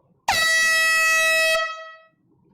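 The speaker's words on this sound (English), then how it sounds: "Let's blow the air horn." One loud, sustained air horn blast, close and piercing, holding steady for over a second before cutting off with a brief ringing tail.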